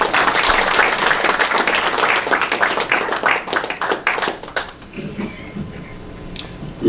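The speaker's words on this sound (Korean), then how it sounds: "자, 박수로 맞으십시오." A forum audience in a church hall claps as a speaker is welcomed to the stage, a loud burst of many hands that thins and fades after about five seconds into quieter room noise.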